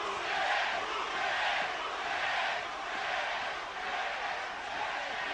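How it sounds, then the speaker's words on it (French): A boxing crowd at a Carlos Monzon versus Jean-Claude Bouttier bout roars in steady, dense cheering of final encouragement, swelling and easing in waves throughout without a break. "C'est l'encouragement final de la foule"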